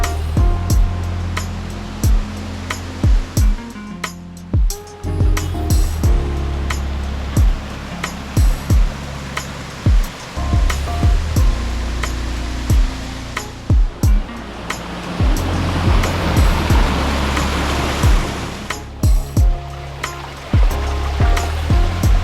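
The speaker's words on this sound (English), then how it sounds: "Actually here at the waterfalls right now." Blue Basin waterfall roaring as a steady broadband rush of falling water, loud and continuous throughout, with occasional knocks and handling bumps close by.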